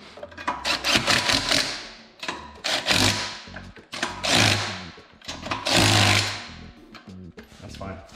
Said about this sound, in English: Don't use the torque wrench. Use the impact.